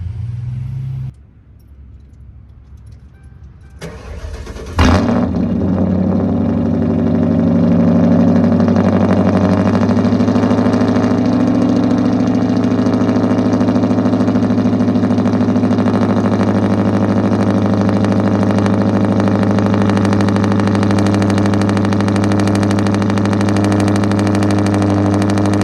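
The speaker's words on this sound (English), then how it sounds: "I'm gonna go ahead and start off with a cold start." A 2010 car is cold started with a sharp crank that catches into a loud, steady idle, holding a deep, even drone close by for the rest of the clip with no voices.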